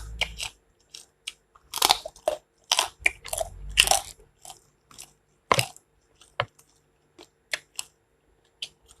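Crispy pork rinds bitten and chewed close to the microphone, loud crunchy bites in uneven bursts early on, then quieter sporadic crackles fading toward the end, with no talking.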